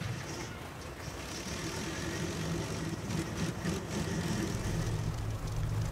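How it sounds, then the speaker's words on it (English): Curtiss P-40F Warhawk engine in the Flight Sim World game catching and settling into a steady, loud, low rumbling idle with a continuous broadband roar throughout. "the engine has now fired. And that engine is to life."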